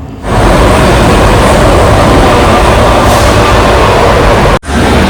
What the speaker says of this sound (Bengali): তবে আমাদের মেট্রো ঢুকছে আর ছাড়তে ছাড়তে মোটামুটি আরও 1 মিনিট লেট